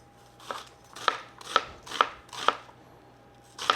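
Five or six crisp knife strokes chop through a big shallot on a cutting board, evenly spaced about half a second apart, close and clear with a faint steady hum underneath.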